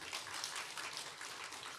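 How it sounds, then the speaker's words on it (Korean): Steady applause from a church congregation, continuous and fairly distant, with no voices on top. "박수 한 번 더 쳐주세요."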